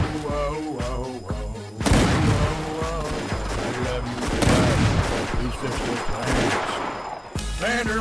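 Gunfire in a Red Dead Redemption game, a burst of loud overlapping shots crashing in after a sung musical passage, volleys continuing under the song before a brief return of the melody.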